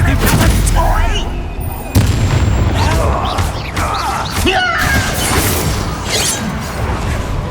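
Bombarda and Confringo spell explosions in Hogwarts Legacy combat, a rapid run of loud booms, crashes and blasts with a sharp impact near two seconds, mixed with game voices underneath.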